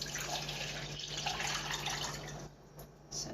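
Water poured from a cup into a sink, a steady continuous splash and trickle at close range lasting a few seconds before tapering off into a brief drip.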